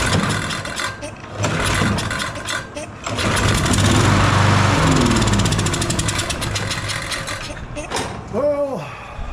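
A Troy-Bilt push lawn mower with a fuel problem fires up with a brief rising rev, runs roughly for a few seconds, then sputters and dies, with someone talking before and after.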